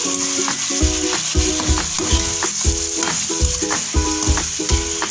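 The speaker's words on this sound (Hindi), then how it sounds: "अब हम घी में सबसे पहले गोश्त ऐड करते हैं।" Meat sizzling and frying in hot ghee, a loud continuous crackle up close with rhythmic stirring scrapes and clinks about twice a second.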